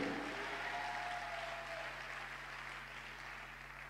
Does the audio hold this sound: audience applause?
yes